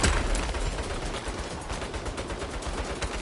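Rapid automatic turret gunfire in the Saints Row video game rattles on continuously, loud and close, with a strong burst at the start and dense repeated shots throughout, no talking.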